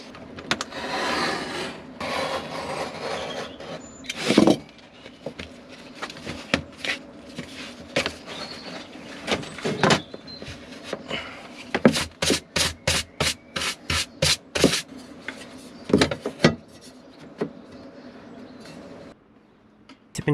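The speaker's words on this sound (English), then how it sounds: "I cut out the vinyl flooring" Vinyl flooring in a Ducato camper van is cut around a diesel heater base plate, with scraping and rubbing strokes up close and a later burst of quick repeated cuts, each separated by short pauses.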